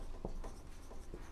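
Pen scratching across the pages of a nature journal notebook in a few short strokes, quiet and close, alone without any talk.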